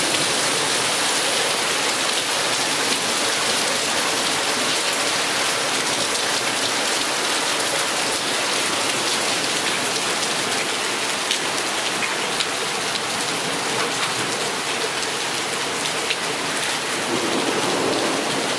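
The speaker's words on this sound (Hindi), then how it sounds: "आपको गड़गड़ाहट की आवाज़ आ रही होगी।" Heavy rain pours steadily and loudly throughout a stormy spell in Islamabad, a dense continuous hiss with faint low rumbles of thunder mixed in beneath, and no voices.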